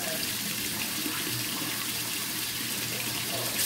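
Water runs from a tap in a steady, close stream, continuous for a few seconds with no voices over it.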